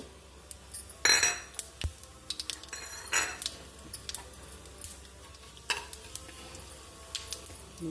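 Cumin seeds sizzle softly in hot Koseli oil in a pan, the quiet frying hiss broken by sharp, close clinks of a metal spoon against the cookware.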